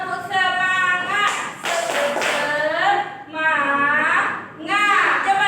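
A class of children performs the 'tepuk semangat' chant, voices calling out in unison in short bursts, each one punctuated by rhythmic group clapping and light taps, close and lively.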